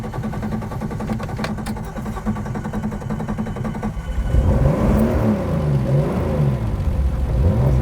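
A 1972 Nissan Skyline's engine hums steadily, then revs up sharply halfway through into a louder, rising and falling growl of repeated throttle blips, close and alone on a drive through Red Rock Canyon.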